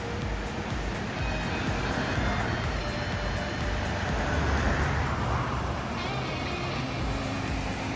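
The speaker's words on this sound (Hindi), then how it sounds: "ये देखो जी सतलुज नदी का बहाव, और सारा मिट्टी जैसा पानी है बिल्कुल, कितना तेज है" The fast-flowing, muddy Sutlej river rushes past in a loud, continuous roar of churning water, heard from nearby without a break.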